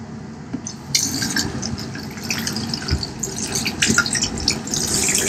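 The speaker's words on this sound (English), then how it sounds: "my warm water. Rinse that neutralizing shampoo out of there." Warm water runs and splashes through hair as neutralizing shampoo is rinsed out during a relaxer treatment at a barber's sink, a close, continuous trickling with irregular drips and splatters.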